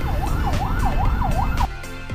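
Ambulance siren wailing in traffic on EDSA, a loud nearby rising-and-falling wail repeating in quick cycles over a heavy road rumble, cutting off abruptly near the end and leaving only traffic noise.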